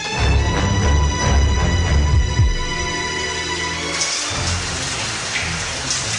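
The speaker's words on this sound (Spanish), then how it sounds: "Una leve llovizna hacía más frío el ambiente" Light winter drizzle at night, a steady soft hiss of rain falling on surfaces, close and continuous, with a denser low rumble in the first seconds that thins out afterward; no voices.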